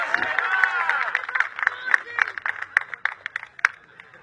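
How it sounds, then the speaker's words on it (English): Audience applause and cheering for a contestant at a chili eating contest, a crowd clapping in a dense burst that thins into scattered claps, with voices mixed in. "please give Kate a round of applause"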